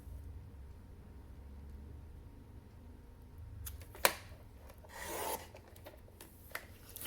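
Diamond cardstock is sliced on a paper trimmer: a faint scraping rub, a sharp click, then a brief gritty swipe of the blade, close and quiet against a low room hum.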